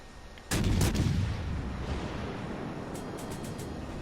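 Ship guns fire in the naval video game World of Warships Legends, one loud booming salvo that fades into a long rumbling tail, followed by a few faint sharp pops.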